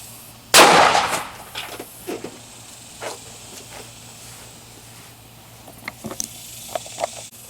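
A 9mm Extreme Shock Air Freedom round is fired from a pistol into a book, producing one sharp, loud crack early on. Faint scattered clicks and small clatters follow in a quiet room.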